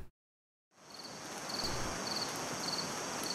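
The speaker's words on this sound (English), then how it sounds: "So I've got some wind, some rain, some crickets, cicadas, some owls, and some thunder." An Unreal Engine 5 nature soundscape fades in from silence as a steady wash of rain and wind, with a high, pulsing chirr of crickets and cicadas running evenly throughout.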